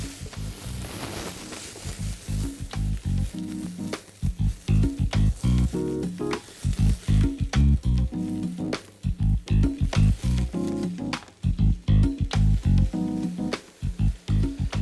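Celery and pumpkin fry in a pan with a loud, close crackling sizzle that comes in uneven bursts and brief lulls, as though the vegetables are being stirred, with no voices.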